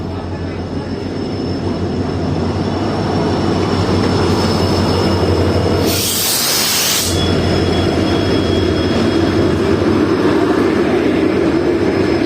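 An Indian passenger train on the Sri Ganganagar to Nanded route rumbles steadily along the rails, a loud continuous close roar with a brief hiss burst midway.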